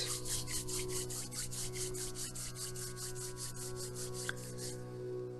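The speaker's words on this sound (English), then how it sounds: "Rub your palms." Palms rub briskly together in a steady, fast back-and-forth rhythm for several seconds, close to the microphone over a low steady hum, then stop and leave only the hum.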